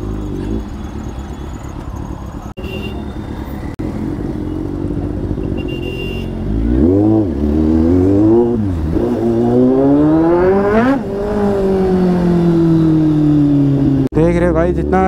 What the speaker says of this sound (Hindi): बाप रे गाइस बहुत गंदा वाला ट्रैफिक है भाई